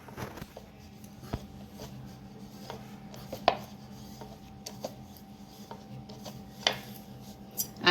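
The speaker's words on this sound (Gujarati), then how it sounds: "હવે આપણે વણી નાખીએ બધી." Fenugreek wheat-flour puri dough balls are rolled out with soft rubbing and scraping on a board, punctuated by scattered light taps and clicks of the rolling pin, close and quiet with no talk.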